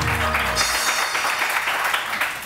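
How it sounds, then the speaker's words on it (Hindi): Studio audience applause on a Pakistani morning TV show, a steady wash of many hands clapping throughout, fairly loud and even. "आवाम की जोरदार तालियां हो जाए"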